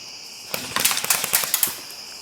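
Airsoft guns fire outdoors in a burst of rapid, sharp cracking shots over roughly two seconds, with scattered pops against a steady background hiss.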